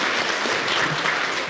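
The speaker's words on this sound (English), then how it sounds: "let's give a round of applause for Nicola" An audience applauding at a research forum on civil registration and vital statistics, a brief, full burst of many hands clapping at an even, steady level throughout.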